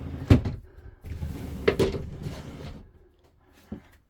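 A cupboard in a Hymer BMC i880 motorhome opens with a couple of close, hollow knocks and rattles of the door and latch, followed by a soft thud, then quiet.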